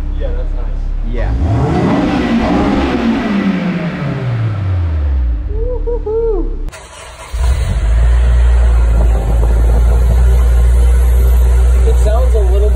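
Honda S2000 fitted with a Berk high-flow catalytic converter, its exhaust revving up loud and close, rising and falling through a strong pull before dropping to a steady idle with a deep, throaty note.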